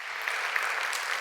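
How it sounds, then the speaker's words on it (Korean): A church congregation applauds during a worship service, a dense even wash of many hands clapping at once, brief and steady. "함께 박수로 격려와 감사를 좀 표현할까요?"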